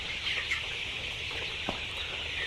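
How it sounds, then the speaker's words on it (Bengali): Chickens on a poultry farm, a soft, fairly distant clucking murmur over a steady broadband background hum, with one brief louder call. "আমার এই মুরগিগুলো একটু দেখেন আপনারা সবাই"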